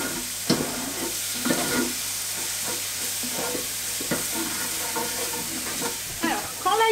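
Garlic fries in a pan and is stirred often, making a steady sizzle with repeated scraping and clinking of the utensil and a few louder knocks.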